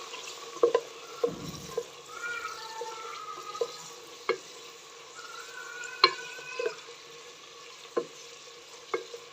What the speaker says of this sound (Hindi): प्याज अच्छे से फ्राई हो रहा है हमारा